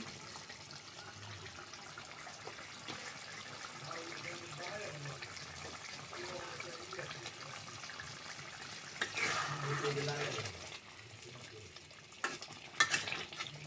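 Snakehead fish curry frying and being stirred in a pan, a steady sizzle with scraping stirs throughout, growing louder and busier near the end, with no voices.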